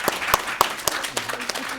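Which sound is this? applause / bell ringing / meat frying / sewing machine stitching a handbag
applause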